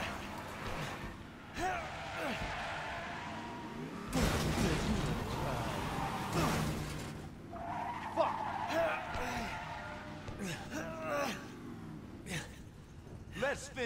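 Car skidding in the Resident Evil 7 video game, with bursts of tire noise and engine roar rising and falling over about fourteen seconds, mixed under game voices and other in-game sounds.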